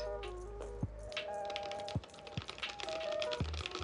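Rapid, crisp keystrokes clatter on a Mechwild Big Dill Extended 30% mechanical keyboard with JWK Lavender switches at close range, with a few sharper thocks standing out from the steady typing.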